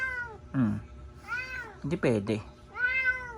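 A house cat meows repeatedly and insistently, wanting to be let out the door, with long drawn-out cries close to the microphone while a person speaks between them.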